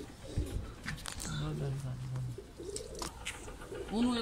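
A pigeon coos softly a few times, low and nearby, over quiet background murmur and a brief flutter near the start.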